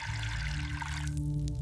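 Water pours steadily into a cooking pot of chicken and masala over a village firewood fire, a continuous close rushing splash with no talk.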